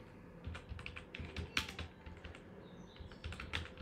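Typing on a computer keyboard, scattered soft clicks and a few sharper key taps in short irregular clusters, faint and close in a quiet room with no talking.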